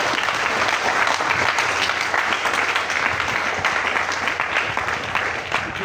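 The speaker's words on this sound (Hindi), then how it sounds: "इसके तालियां बजाएं" Sustained applause from an audience at a school quiz, dense steady clapping filling the whole stretch without pause.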